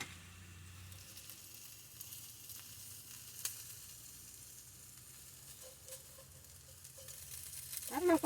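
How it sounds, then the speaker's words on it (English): A steady, soft sizzle of food frying in a pan inside a van, with a few light clicks and a clatter near the end. "There's the sizzle."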